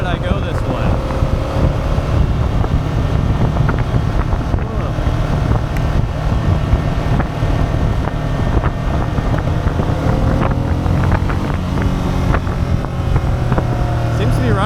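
A 2002 Ducati Monster 750ie motorcycle runs steadily while being ridden, its engine a continuous low drone under heavy wind buffeting.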